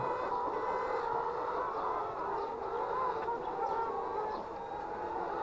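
Farm chickens cluck continuously nearby in a steady, busy chorus of short calls, heard alone without talk.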